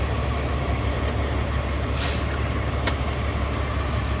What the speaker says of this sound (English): So I'm going to disengage my tractor brake.